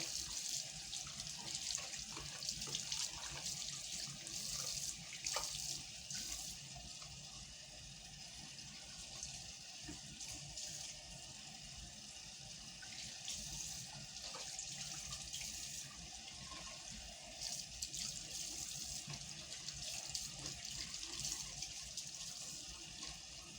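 Tap water runs steadily while hair is being rinsed, a continuous close hiss and splash lasting throughout with small shifts in flow and no talking.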